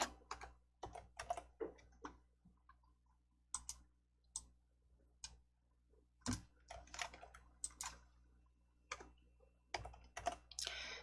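Computer keyboard keys are tapped in short irregular bursts with a few isolated presses, including an Enter key press, close up and fairly quiet, with no talk.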